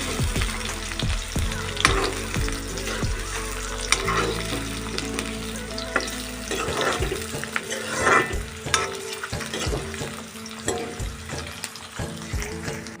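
Eggs frying in a pan, a loud continuous crackling sizzle with rapid spatters, opening with several knocks and scrapes of a spatula, then settling into a steadier hiss punctuated by stirring clicks.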